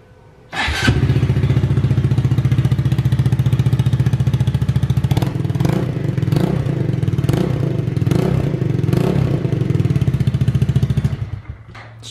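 A 2020 Honda Grom motorcycle fitted with a cheap eBay exhaust starts up and idles loudly close by, then blips the throttle in several sharp revs before cutting off near the end.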